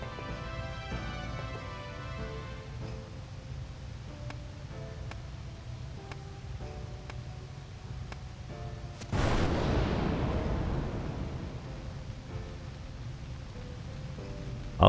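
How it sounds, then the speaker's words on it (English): Explosion in Final Fantasy X: quiet tonal game ambience with light ticks, then a sudden broad blast that swells and slowly fades, moderately loud, no talking. "Oh, that was an explosive fire."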